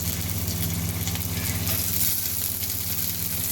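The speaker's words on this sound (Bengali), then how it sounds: "গাজর কুচিটা হালকা ভাজা হলে তাজা অন্য সবজিগুলো দেব" Chopped carrots fry in a pan with a dense, continuous, close-up sizzle that holds steady throughout, alone with no voices.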